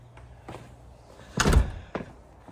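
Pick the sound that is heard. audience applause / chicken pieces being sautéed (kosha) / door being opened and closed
door being opened and closed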